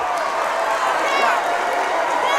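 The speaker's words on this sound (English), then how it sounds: "And the Gator fans on their feet, cheering." Basketball fans of the Gators on their feet in a gym during a Farmville Central vs Martin County game, a steady roar of cheering and whoops filling the space, with an announcer talking over it.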